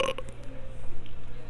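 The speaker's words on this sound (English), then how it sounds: "Burp of the episode." A single human burp, low and throaty, lasting about a second at close range with no talk over it.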